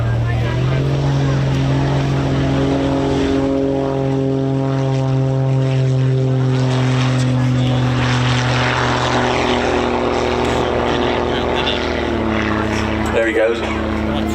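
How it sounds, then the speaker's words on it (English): A jet-assisted Pitts biplane takes off at an airshow at Old Buckenham with a loud, steady propeller-engine drone whose pitch shifts slightly as it climbs away, with an announcer talking over it. "We've got the pits just taking off. He's going off to another display."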